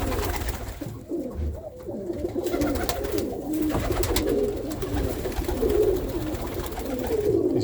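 Tumbler pigeon cocks coo in low, repeated throaty murmurs, several birds overlapping continuously through a steady background hum.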